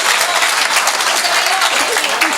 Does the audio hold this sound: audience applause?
yes